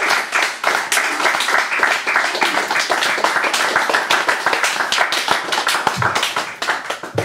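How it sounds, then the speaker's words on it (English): Close, lively clapping from a small audience at a poetry reading for the poet Agnes Meadows, individual hand claps distinct and fairly loud, thinning briefly near the end. "More applause, please, for Agnes Meadows"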